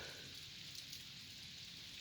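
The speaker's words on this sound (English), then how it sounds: "just living in the country, enjoying the rain" Soft, steady rain falling in the countryside, a faint and even hiss of drops on surfaces with no voices and no distinct individual splashes.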